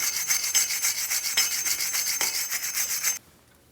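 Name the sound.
wire brush or sanding disc cleaning Jeep hub mating surface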